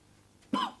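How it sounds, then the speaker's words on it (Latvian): A single short, dry cough, close by, after a brief quiet moment. "Man nepatīk šis klepus."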